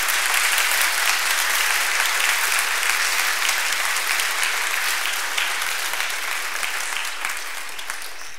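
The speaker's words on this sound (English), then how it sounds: "Would you give these behind the scenes people a round of applause?" A church audience gives sustained applause at a December Christmas program, a dense, steady wash of clapping from a crowd filling the room that tapers slightly toward the end.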